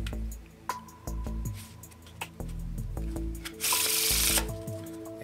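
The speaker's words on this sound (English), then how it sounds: "And a good shuffle." A deck of playing cards is shuffled up close, with soft riffling and a burst of rapid flutter near the end, broken by quick taps and clicks as the cards are handled.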